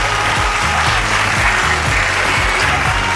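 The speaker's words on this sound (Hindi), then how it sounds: "तालियां हो जाए।" An audience at a gathering honoring Hakeem Baba Shamsher Mughal gives a burst of clapping, dense and continuous over a low rhythmic hum, with no speech breaking through.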